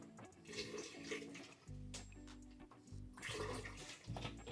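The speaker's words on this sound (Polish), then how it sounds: "Dolejemy trochę wody, żeby było lżej." Water splashes and gurgles steadily as it is poured into a pot of potatoes, close and fairly soft, with no talking.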